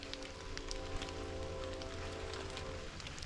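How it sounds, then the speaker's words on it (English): Steady rain falls continuously, a soft even hiss with scattered drops, with a low hum underneath. "It was a dreary Sunday morning, rain's falling."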